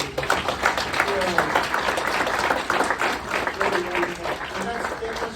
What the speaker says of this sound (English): One more round of applause for those extraordinary